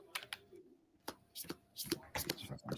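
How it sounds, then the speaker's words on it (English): Quiet riffle and shuffle of a Magic: The Gathering deck in short bursts, a few close flicks and slides with soft handling noises between them. "Sorry, I'm still going to shuffle."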